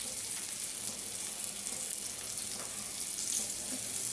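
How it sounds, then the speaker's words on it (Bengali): Eggplant slices and three chilies frying in a pan, giving a steady, close sizzle with bright crackle that keeps up without a break and with no talk over it. "আর কিছুক্ষণ ভেজে একেবারে হয়ে গেছে আমার সুস্বাদু বেগুন ভাজি।"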